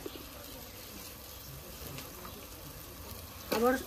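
Spice paste sizzles steadily in a pan for a chicken curry, with ground cashew paste just added. The frying is low and continuous, and a brief louder sound rises near the end.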